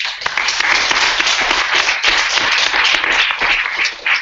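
A meeting audience applauds the organizing committee, giving dense, loud, steady clapping from many hands that runs unbroken and close throughout.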